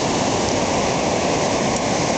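Sea waves wash continuously on the shore at a beach resort in Morong, Bataan, a steady broad rushing hiss heard close and loud, with no voices.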